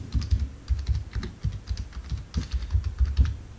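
Typing on a computer keyboard on a slow Dell Dimension 3100 desktop, a brisk irregular run of close key clicks and thumps with no talking.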